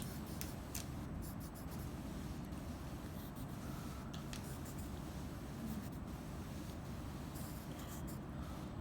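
Pencil lead traced firmly over letters on paper, a steady dense scratching that runs continuously and close, without pauses or voices.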